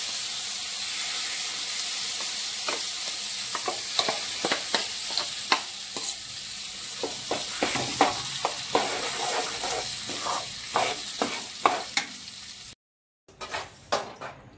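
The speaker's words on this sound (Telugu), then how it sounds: "ఇది ఇంకా పచ్చడి పోపు అయితే పెట్టేసిన." Tempering for a sorrel-leaf chutney sizzles in a pan, with a constant hiss punctuated by repeated sharp spoon scrapes and clinks, cut briefly to silence near the end.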